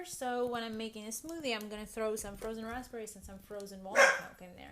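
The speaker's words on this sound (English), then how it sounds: "sorry about that, that was my dog" A pet dog barks once, briefly and near, over a person talking steadily in a kitchen.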